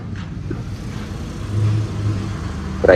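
Traffic on a nearby road where many trucks pass, a steady low engine rumble swelling slightly midway, with a vehicle rising louder right at the end.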